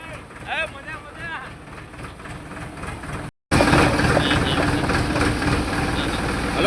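Tractor engine idling and chugging with a steady knocking drone, first fainter under voices, then after a brief cut much louder and closer; people talk over it.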